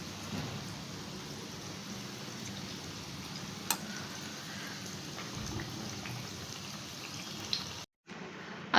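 Leftover idli pakoda fry in hot oil in a kadhai, giving a steady, fine sizzling hiss like light rain, with a faint click and a brief dropout near the end.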